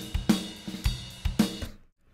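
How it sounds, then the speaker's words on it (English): Playback of a multi-track drum recording with kick, snare, top and bottom mics, overheads and ambient mics in Studio One: a few loose kick and snare hits over about two seconds, then the sound cuts off. "I've got multi-track drums, which sounds like this."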